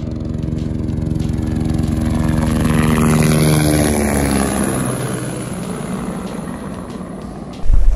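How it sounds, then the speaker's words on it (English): A helicopter flies near Everest toward Kathmandu, a steady loud rotor and engine drone that slowly shifts pitch as it passes, ending in a brief gust of wind noise. "This helicopter is headed to Kathmandu."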